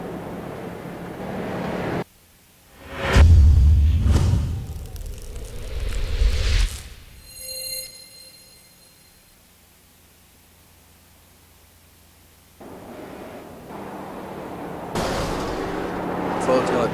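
A street stock race car at Lucas Oil Raceway spins to the inside and slams the inside wall, a loud rumbling burst of impact and engine noise followed by a quiet lull, then crowd or track noise returning.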